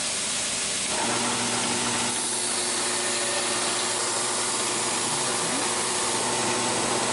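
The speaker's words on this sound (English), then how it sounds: "We're now going to proceed to drill" A power drill whirs continuously at close range, a steady grinding drone of drilling holes in a steel chef's knife, with a shift in pitch after the first second.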